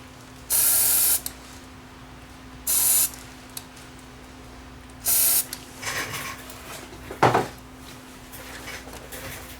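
Cleaner sprayed onto parts of an AKAI GXC 310D cassette deck: three short, close hissing bursts spaced a couple of seconds apart, followed by faint handling clatter and a brief knock, with no talking.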